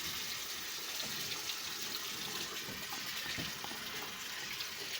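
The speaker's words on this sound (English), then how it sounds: "So now I'm going to turn the sink on without touching" A sink faucet runs during a hand washing technique lab, a steady, quiet hiss of flowing water that holds evenly throughout with no voices.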